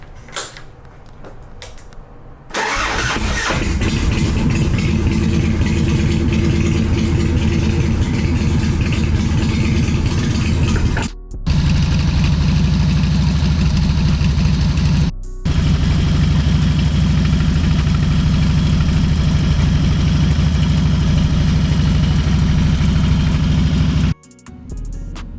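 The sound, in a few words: motorcycle engine cold start and idling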